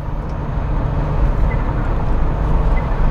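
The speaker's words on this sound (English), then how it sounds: "it just thrums away like a mini flat six even" Turbocharged engine of a Smart Roadster sports car thrumming steadily like a small flat-six, a dense, continuous low rumble held at an even level from start to finish.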